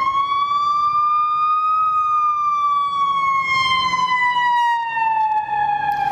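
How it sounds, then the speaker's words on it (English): An emergency vehicle siren on a street in Santa Monica wails loud and close, one steady rising and falling tone that holds across the whole stretch over a low rumble of traffic. "Anyway, plenty of those around here, plenty of sirens"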